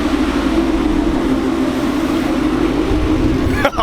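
A 2016 Ford Mustang GT fitted with a Corsa Extreme cat-back exhaust and headers idles with a steady, deep, loud rumble, close by, with a brief shift in tone just before the end.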